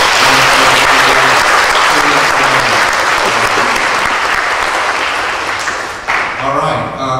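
A church congregation gives loud, sustained applause in praise during a sermon, the dense clapping slowly thinning and fading before a voice speaks again at the end.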